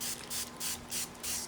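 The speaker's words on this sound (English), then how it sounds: "And spray the end of that." Spray bottle misting water onto the cut end of a B. nodosa orchid, giving five short hissing bursts at a steady rhythm, close by, with a faint steady hum underneath.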